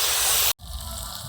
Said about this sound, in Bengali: আলুটা যেন ভাজায় সেদ্ধ হয়ে যায় সেরকম ভাবে ভেজে নেব